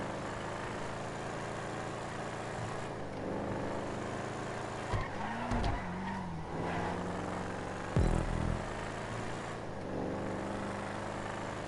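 The Vapid Ellie car in Grand Theft Auto 5 drives with a continuous engine roar, broken by two or three sharp backfire pops near the middle and later in the run.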